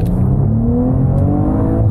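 Maserati Levante SQ4 SUV accelerating from the cabin, a loud, rising engine note climbing steadily in pitch through the gear, close and continuous with no voices.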